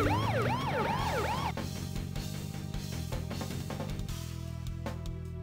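A police car siren wails in the video game Duke Nukem: Zero Hour, a loud rising and falling tone for about a second and a half that gives way to engine rumble and clattering game sounds.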